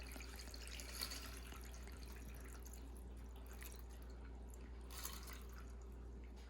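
Water poured into a rock tumbler barrel while making sea glass, a soft trickle and splashing with a couple of brief louder drips, faint and close, with no talk.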